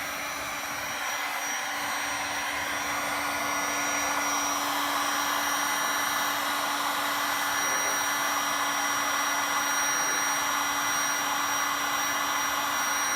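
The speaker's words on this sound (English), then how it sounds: "you could also go over it with the heat gun, just back and forth, let it heat up" A heat gun blows continuously over door molding, a loud, even electric whoosh with a thin steady whine that runs unbroken from start to finish.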